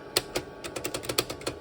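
Keys clack on a 5-pin DIN keyboard connected to an IBM 5160 PC, a dozen or so sharp, close strikes in an uneven typing rhythm, with no voices.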